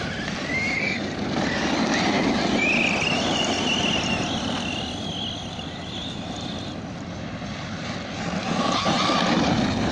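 A ZD Racing Pirate 2 RC car fitted with a Turnigy XK-4074 2000KV motor and a 15-tooth pinion runs outdoors with a loud, whining electric motor. The whine rises and falls in pitch as the car speeds up and slows.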